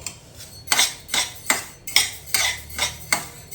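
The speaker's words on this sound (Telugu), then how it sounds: "ఇలాగ కలుపుతూనే వేయించాలి" A spoon stirs moong dal as it roasts in a pan on a low flame for pesarapappu laddu, producing about eight rhythmic, fairly loud metallic scrapes and clinks against the pan.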